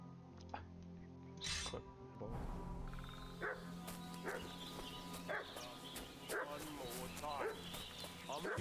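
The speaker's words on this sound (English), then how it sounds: "What's that dog making such a fuss about?" A dog barks and yips repeatedly in the medieval world of Kingdom Come: Deliverance 2, sharp bursts over ambient game sound while characters speak.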